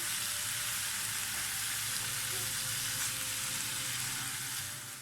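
Minced meat sautéing in a pan, a continuous loud, dense sizzle and crackle with occasional stirring, no voices.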